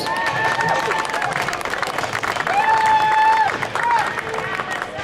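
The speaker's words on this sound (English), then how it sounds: "Give her a big round of applause." Rally crowd in Auckland applauding a woman introduced as a speaker, sustained dense clapping with some cheering and whistles, loud and close, with a voice heard over the noise.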